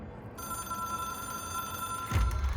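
An old-fashioned telephone bell rings steadily in the video game Control, a sustained bright metallic ringing at moderate volume, joined near the end by a low thud and rumble.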